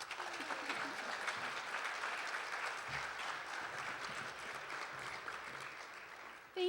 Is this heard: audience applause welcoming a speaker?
yes